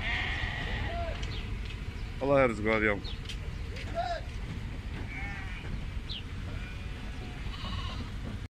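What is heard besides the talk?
Naimi sheep bleating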